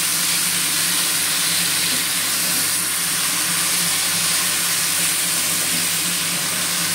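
Spice paste sautéing with vegetables in a pan for capsicum bhetki, a steady hissing sizzle of frying that holds evenly from start to finish with no voices.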